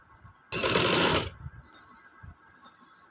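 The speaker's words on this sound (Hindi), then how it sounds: "इस तरह रखना है और इस तरह सिलाई लगाते जाएंगे।" A sewing machine runs in a short burst of about three-quarters of a second, stitching fabric with a close, rapid whirring rattle, followed by faint handling sounds and quiet.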